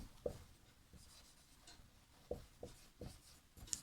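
Faint, intermittent scratching strokes of letters being written during a Sanskrit lesson, short scrapes and taps spaced irregularly over quiet room tone, with no talk.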